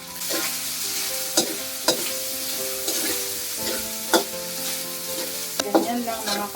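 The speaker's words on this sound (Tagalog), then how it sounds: "Trituhin muna natin ang ham" Ham frying in oil in a pan, with a steady close sizzle broken by several sharp clinks and scrapes of a utensil stirring and turning the pieces; no talking.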